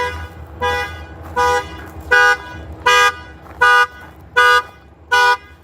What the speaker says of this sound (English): I think he accidentally hit his alarm.